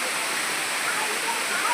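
Steady, dense roar of rushing water from the Palakonda waterfall in the Kadapa hills, heard up close, continuous and even throughout.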